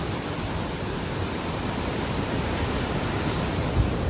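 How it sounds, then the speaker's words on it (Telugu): Rushing water at Ethipothala waterfall, a dense, even roar of falling and flowing water filling the scene, loud and steady throughout. "వాటర్ చూడండి ఎలా వెళ్తున్నాయి."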